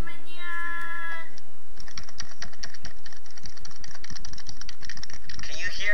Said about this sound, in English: Can you hear me smashing my keyboard?